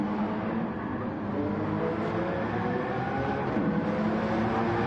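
Lamborghini Murcielago race car in a Gran Turismo Gr.4 endurance race, its engine droning steadily and loud throughout, a continuous dense mechanical roar with no breaks or passes.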